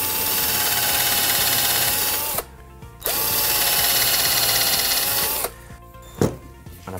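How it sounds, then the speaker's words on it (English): A power drill bores pilot holes in pallet wood during a bench build, two long steady whining runs with a short pause between, then a brief clatter at the end. "Drill a couple of pilot holes in them."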